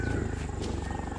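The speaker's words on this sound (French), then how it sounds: "Les tigres, habituellement solitaires, se rencontrent. L'affrontement est bref," Bengal tigers clash in a brief fight, a low, rough roar and growl rumbling continuously and fairly loud for about a second.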